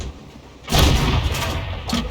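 A tank cannon in World of Tanks fires once with a sudden heavy boom that rolls on as a loud rumbling tail, followed by a smaller second report near the end.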